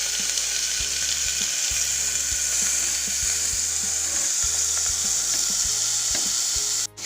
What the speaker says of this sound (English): I'm then going to add 2 medium-sized onions to it.